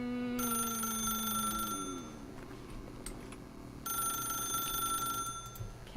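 A telephone rings in The Stanley Parable video game: two bursts of bright electronic trilling separated by a pause, loud and close over a low background hum.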